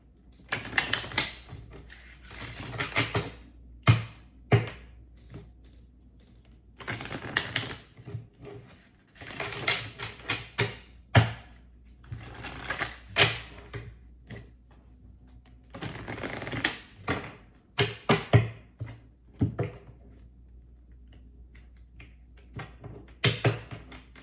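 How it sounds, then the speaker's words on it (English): A tarot card deck being shuffled quickly by hand, heard as repeated rapid riffling bursts of crisp paper clatter separated by short pauses, close and fairly quiet with no talking. "I'm going to shuffle this way really quickly."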